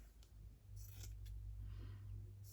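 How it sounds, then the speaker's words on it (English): Fabric scissors cutting cloth, a few faint crisp snips and slides close to the microphone over a low steady hum, with no talk. "Where did my fabric scissors go?"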